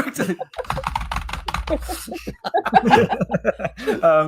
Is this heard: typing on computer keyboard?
yes